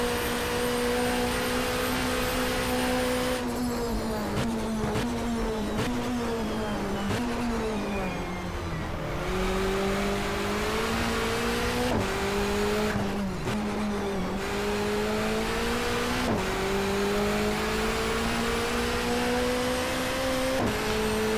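Touring car engines roar continuously at high revs in GTR2 racing on a street circuit in a 1994 Asia-Pacific championship race, pitch rising and dropping with gear shifts and braking, loud and close throughout with no talk.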